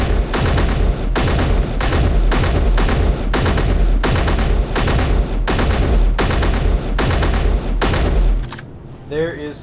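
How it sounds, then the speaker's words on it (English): An MR50A rapid-fire rifle in Space Engineers fires loud, close single shots in a steady rhythm, roughly fourteen evenly spaced cracks, then stops abruptly and leaves only a brief faint tail. "let's go to the MR50A, which is the rapid fire rifle"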